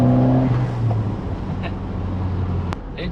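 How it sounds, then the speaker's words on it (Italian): Ford Sierra Cosworth 4x4 with a turbocharged engine and pop-off valve, accelerating: a loud, close engine drone that settles under a broad rushing roar, with a sharp high hiss near the end, no speech. "Sì, si sente la turbina."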